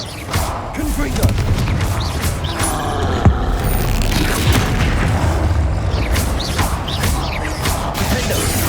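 Repeated fiery Confringo spell blasts from the Hogwarts Legacy video game, a dense, loud barrage of booms and crashes under continuous combat music and effects, with no pause across the whole stretch.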